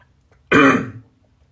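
A single harsh cough or throat-clearing burst, loud and close, lasting about half a second with quiet before and after.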